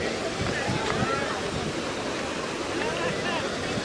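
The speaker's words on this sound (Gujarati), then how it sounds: "અવાજ જ એટલો આવે છે પાણીનો." Gira waterfall rushes at full flow with a constant, loud broadband roar of falling water, with faint voices underneath.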